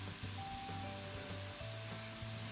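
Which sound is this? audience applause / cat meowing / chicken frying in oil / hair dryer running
chicken frying in oil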